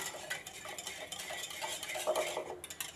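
Barbecue sauce mixture being whisked in a bowl, a close, soft and busy scraping and clinking of the whisk against the sides, steady and rhythmic without any voices.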